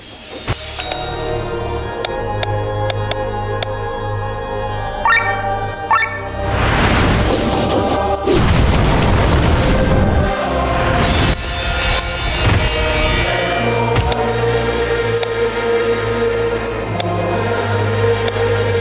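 Fire strike attack in the Chained Echoes role-playing game, a loud burst of crackling, shattering impact noise with roaring flame-like swells over several seconds, layered over steady game music.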